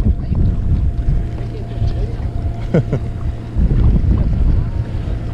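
Wind buffets a boat at sea off Baeksajang Port during squid fishing, a steady low rumble of gusts and microphone buffeting with brief voices and line handling mixed in.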